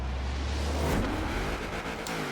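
A Mazda RX7 Spirit R launches off the line in a Forza Horizon 4 drag race, its engine loud and close as it roars and revs through a short, continuous burst of acceleration.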